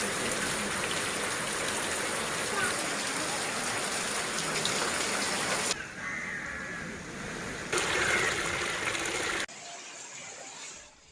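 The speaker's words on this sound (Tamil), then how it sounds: "இடி மின்னலுடன் பலத்த மழை பெய்தது" Heavy rain falling in Mayiladuthurai district during a night storm, a dense, steady roar of downpour with abrupt shifts in level as the scene changes; no clear thunder stands out.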